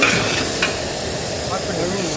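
Onion and masala paste sizzle and hiss loudly in a large pan of oil while being sautéed for a 10-kilo batch of veg biryani, a steady close frying sound with stirring scrapes.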